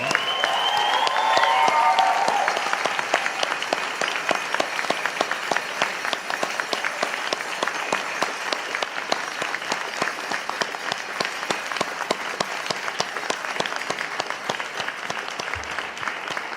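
A university convocation crowd of graduates, families and friends gives sustained applause, with dense, loud clapping that swells at first and then settles into a steady, even ovation lasting many seconds.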